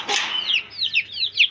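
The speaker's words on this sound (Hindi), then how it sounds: "ये छोटे बच्चे वाली मुर्गी है" A hen with small chicks clucks in a few short bursts alongside high, thin peeping calls, close and fairly loud, with no talking.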